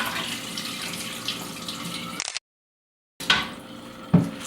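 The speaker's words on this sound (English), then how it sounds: "She's she draining the grape leaves, draining the water." Water runs and splashes in a kitchen sink as grape leaves are drained, a steady close pour that cuts out abruptly, then resumes with a few clatters and splashes.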